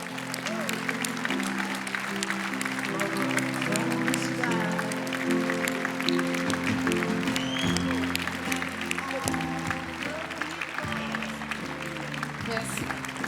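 A conference audience at the BIG 2022 event applauds 27 entrepreneurs called on stage, with steady, dense clapping sustained throughout and upbeat music with a strong bass line playing alongside it.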